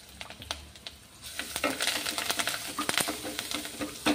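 A spoon stirs green masala paste in a hot pan for a Nagpur-style saoji patvadi rassa: quick scraping clicks over a rising sizzle, close and busy, growing denser and louder toward the end.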